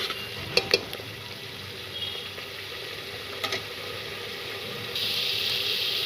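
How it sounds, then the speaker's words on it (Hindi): Tomatoes cooking in oil in a pan for pav bhaji give a steady low sizzle and hiss, with a few light utensil clicks, the frying growing brighter and louder near the end. "ये देखिए हमारे पक रहे हैं टमाटर।"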